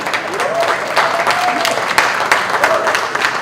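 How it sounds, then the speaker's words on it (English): Audience applause during a talk at the KASHISH event, a crowd clapping steadily and fairly loudly, with a faint tonal whistle-like sound heard briefly over the clapping. "it's always good to get applause for that"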